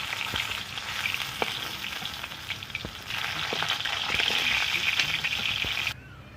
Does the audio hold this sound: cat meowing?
no